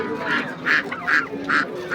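Ducks at a busy poultry market give four loud, evenly spaced honking quacks, close by, over a steady murmur of market background.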